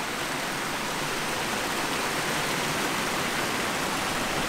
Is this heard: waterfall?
yes